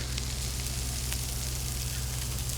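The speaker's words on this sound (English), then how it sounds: "So this is sizzling good." Food sizzles hard in a hot pan over medium-high heat, a dense, steady crackling hiss with a constant low hum beneath it.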